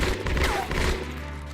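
Burst-fire gunshots in Shadowrun Chronicles: Boston Lockdown, a quick cluster of sharp, loud reports in the first half-second, followed by a short ringing tail and impact noise.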